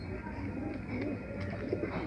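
Feeke Baajre pigeons cooing close by, a steady low throaty rolling coo that runs on without pause and no one speaking.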